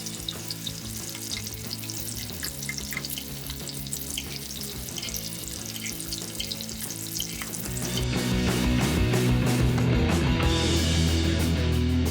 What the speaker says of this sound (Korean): 연어를 익혀줍니다